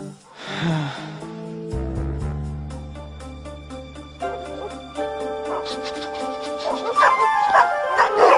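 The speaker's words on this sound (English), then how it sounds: "Dogs! I mean, dogs!" Several dogs bark and yip loudly near the start over sustained music tones, with more excited dog noises building toward the end.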